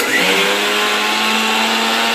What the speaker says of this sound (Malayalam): ഇതെന്നാ തേങ്ങ അരക്കുവാണോ?